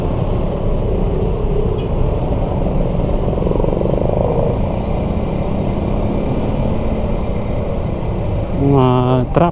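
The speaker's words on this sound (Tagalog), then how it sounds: "Mga truck." Heavy road traffic rumbles past a motorcycle rider, with trucks droning loudly and continuously close by, and a horn-like tonal blast sounding near the end.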